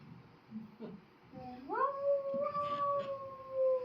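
A voice imitates a wolf howling in a Slovak outdoor puppet show: a rising, drawn-out howl that swoops up and holds a long wavering note, preceded by brief vocal sounds.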